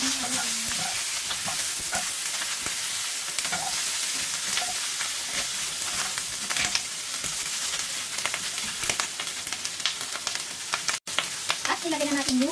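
Chicken feet fry with browned garlic in a hot pan, a steady loud sizzle running throughout with occasional stirring scrapes and no talk.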